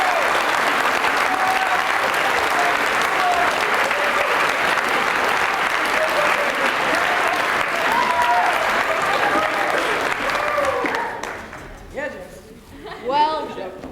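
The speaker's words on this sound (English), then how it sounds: "please give a huge round of applause for an amazing person" A theatre audience at a staging of the musical Damn Yankees applauds the play's director with loud, sustained clapping and cheering that fades near the end as a voice begins speaking.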